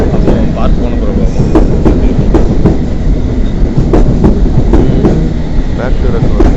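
A train passing on the rails in London, a loud, close, continuous rumble with rhythmic clickety-clack from the wheels over the track joints throughout.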